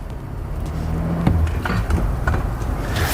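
Honda Pilot SUV reversing slowly onto dynamometer test rollers, a low engine hum with faint thumps and creaks as the wheels roll up, close and moderately quiet.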